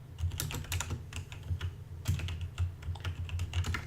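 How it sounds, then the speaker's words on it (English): Rapid clacking from a loud computer keyboard: bursts of sharp, close keystrokes in uneven runs over a steady low hum, with no talking. "Sorry, I know my keyboard's loud."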